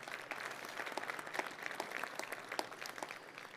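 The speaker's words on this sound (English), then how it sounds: "So a round of applause, please, for Farm Credit." An audience at a sponsored lunch presentation claps, a steady wash of applause from many hands, moderately distant and even throughout.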